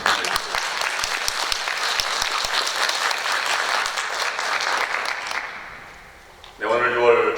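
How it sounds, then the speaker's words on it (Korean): A church congregation claps vigorously at the start of a Korean worship service, with loud, dense applause and some distinct close claps. The clapping fades out, then a voice speaks near the end. "하나님께 영광의 박수를 치시려면 힘차게 하는 거예요."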